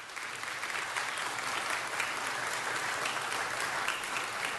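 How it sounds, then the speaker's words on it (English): Audience at a city council meeting applauding a visiting high school literature class and book club, a steady, full round of clapping that holds evenly throughout with no talk over it. "Give them a big round of applause."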